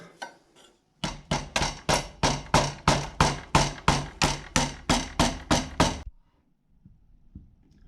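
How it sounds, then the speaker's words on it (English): A rubber hammer strikes a stuck FSA bicycle crank fitted with a Power2Max power meter in about a dozen sharp, evenly spaced knocks, loud and close, then the blows stop. "with a couple of bumps on this side with your fist or a rubber hammer, you should be able to pull it out"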